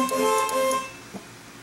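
A VW Eurovan horn sounds once in a short, clear tonal blast lasting under a second as its terminals are shorted, followed by a faint click.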